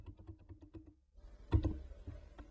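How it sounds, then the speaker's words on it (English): Computer keyboard arrow keys tapped in a quick run of about six evenly spaced presses, then a brief pause and a few louder, irregular key clicks, close and clear with no voices. "by pressing the arrow keys, move it to the left"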